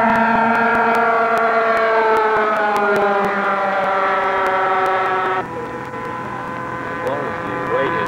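Twin engines drone loudly and steadily, their tones sliding downward as one throttles back, then the pitch drops sharply partway through as only one engine keeps running.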